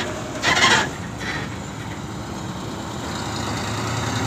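A loaded Indonesian diesel dump truck hauling soil rumbles close by with a low, steady engine drone, after a brief louder burst near the start.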